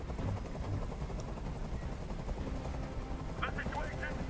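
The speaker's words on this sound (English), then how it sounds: "I can't stand that noise anymore! Tell that helicopter to get out of here!" A helicopter hovers in the video game Detroit: Become Human, a steady low rotor drone that runs throughout. Voices can be heard, and brief sharp bursts near the end sound like gunfire.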